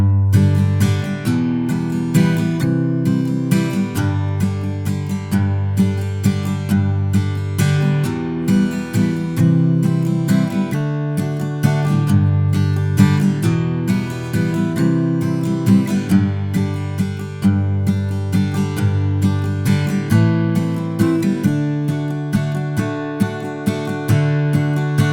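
Acoustic guitar strummed through the verses of a song, steady rhythmic chord strumming with a full, bright tone, close and continuous with no voice.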